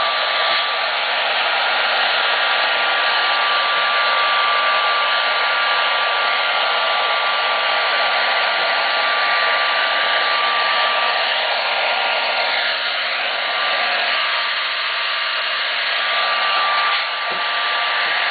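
A heat gun blows in a steady, loud, continuous whoosh while vinyl hash stripes on a Camaro are warmed, with only slight shifts in tone as it is waved back and forth; no talking.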